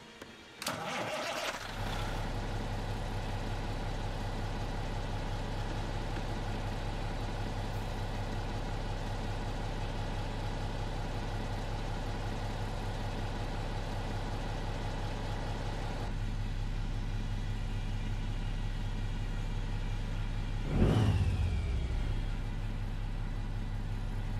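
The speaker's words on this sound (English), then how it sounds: "under the hood in this beast, we're using the Cummins N14 old Creech Bomb. Spark this thing up." A Cummins N14 engine in an American Truck Simulator truck cranks and fires, then settles into a deep, loud, steady idle with a brief rev surge near the end, no talking.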